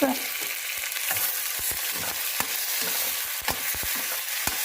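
Browned onions and chopped tomatoes fry in a pot for a one-pot mushroom biryani, a close steady sizzle broken by sharp clinks and scrapes of a stirring spoon, with no speech.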